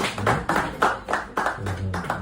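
Several people clap hands in a brisk, steady rhythm of sharp close claps at an outdoor public gathering, heard alone with no talk over it.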